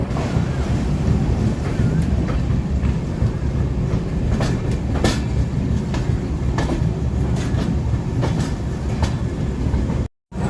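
The Howrah Puri SF Express (12837) rolls along the rails, heard from inside a 3E coach as a loud, continuous rumble with rhythmic wheel clicks and wind buffeting throughout.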